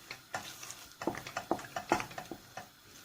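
Thick cassava dough (placali) is stirred in a pot, a quiet irregular series of soft thuds and sticky clicks from a utensil working the paste.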